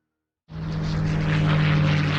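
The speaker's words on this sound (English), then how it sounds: "the sight and sound of Spitfires and Mustangs were common" World War II propeller fighter engine, sounding like a P-47 Thunderbolt, Spitfire or Mustang, roaring in abruptly from silence and holding a loud, steady droning hum.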